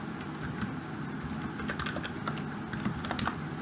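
Someone types steadily on a computer keyboard while coding, a close run of quick, uneven key clicks with a few louder taps near the end. Nobody speaks.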